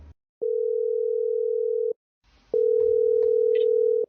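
A telephone dial tone sounds in two long steady beeps, loud and close, the second following a short gap with a faint rustle; no one speaks.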